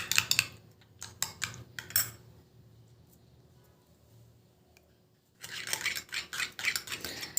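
A spoon mixes wheat flour into a bowl of okra gel with bursts of clinking, scraping strokes. A quieter pause in the middle is followed by a renewed run of brisk stirring.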